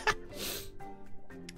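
A single short, sharp human sneeze bursts out at the very start, followed by a breathy exhale and faint low murmuring in a quiet room.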